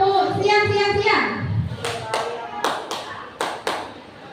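Teachers at a training session singing a short chanted phrase, then a set of sharp group hand claps in a rhythmic pattern with pauses between bursts.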